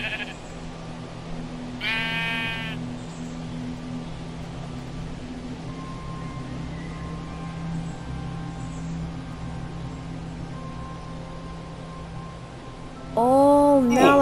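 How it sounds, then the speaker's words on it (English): Sheep in a Minecraft world with realism mods give two clear bleats, one early and one at the end, over a steady ambient hum, with a faint voice talking. "Okay, we found one sheep."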